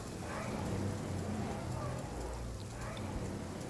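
Heavy rain pours down steadily in a video game, a dense, continuous wash of noise that stays loud and even throughout, with a voice talking over it.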